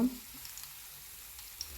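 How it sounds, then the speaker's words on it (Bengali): Shrimp frying in a pan make a soft, steady sizzle that holds at low level for under two seconds, with a small pop near the end. "আর আমার চিংড়ি ভাজা হয়ে গেছে"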